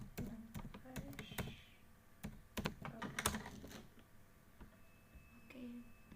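Someone types a command on a computer keyboard, tapping out scattered, irregular keystrokes up close at low volume. Short pauses break up the bursts of typing.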